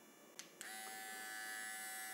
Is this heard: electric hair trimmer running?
yes